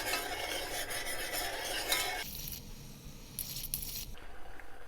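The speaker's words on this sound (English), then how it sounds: "Just give it a little bit of a stir." A spoon stirs dissolving sugar syrup in a pot as it boils, a close, continuous scraping swish, with a quieter simmering hiss after the stirring eases.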